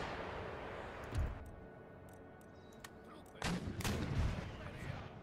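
Foot artillery booms in Empire Total War: two heavy, rumbling volleys about two seconds apart, the second louder and broader, over a steady low battlefield din.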